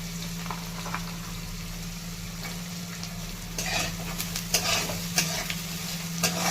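Fresh green peas sauté in a pan for Yuppy noodles, a steady close sizzle over a low hum, with a spoon scraping and clinking against the pan in the second half.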